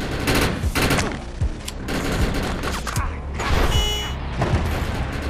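Dense, loud bursts of gunfire in the video game Defiance, overlapping shots and booming impacts crowding together almost without a break, with a brief metallic ringing near the end.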